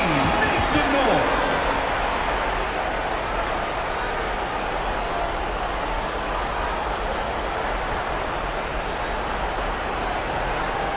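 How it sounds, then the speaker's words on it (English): Steady crowd applause and arena noise fill a virtual NBA 2K26 basketball game, a dense continuous wash at moderate volume lasting throughout, with a brief swooping tone near the start and voices faintly mixed in. "Please give a big round of applause for your dance team."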